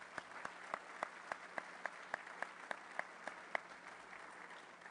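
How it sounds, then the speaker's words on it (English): Sparse, rhythmic applause from a small group at a Rotary Club of Denver meeting: steady individual claps at an even pace, fairly quiet and without voices. "Let's give them all a round of applause."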